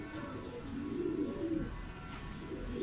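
Soft, low cooing from racing pigeons repeats in gentle rolling phrases over steady outdoor background noise, close and fairly quiet, during a pigeon race in Prieto Diaz, Sorsogon, Philippines.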